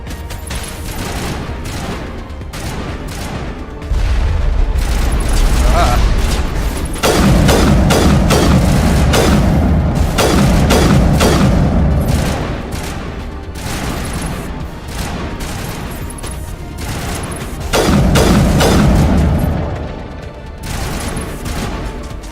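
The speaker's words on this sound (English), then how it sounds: "Someone's using rockets." Rocket fire and explosions from the video game Mass Effect pound in repeated bursts of heavy booms and rapid gunfire, loud and close, swelling and fading over a sustained battle.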